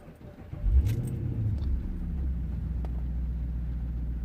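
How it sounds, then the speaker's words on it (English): A Chrysler SRT8 with its check-engine light on cranks briefly and fires up, then settles into a deep, steady idle rumble heard up close with no talking. "So let's quickly start the engine."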